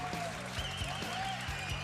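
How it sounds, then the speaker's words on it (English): A large arena crowd applauds and cheers in a standing ovation after a women's title fight between Justine Kish and Randa Makos, a steady distant wash of clapping beneath a commentator's voice. "standing ovation in a large section of the crowd here"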